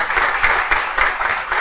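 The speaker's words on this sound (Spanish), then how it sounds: "Un aplauso para ella." Brief burst of audience applause for a team member at an industrial expo conference, loud and close, with a dense clapping texture that swells slightly in waves and then runs on.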